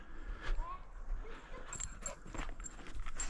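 A hunting dog on a deer hunt whimpers in short, thin whines, with footsteps and faint outdoor movement around it.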